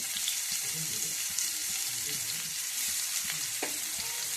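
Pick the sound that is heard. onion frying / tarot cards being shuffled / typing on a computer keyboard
onion frying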